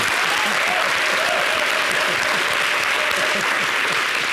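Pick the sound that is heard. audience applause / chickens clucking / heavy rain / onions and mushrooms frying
audience applause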